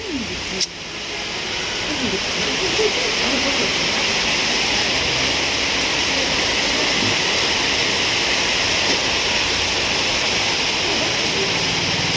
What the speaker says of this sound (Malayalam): മഴ പെയ്തുകൊണ്ടിരിക്കുകയാണ്.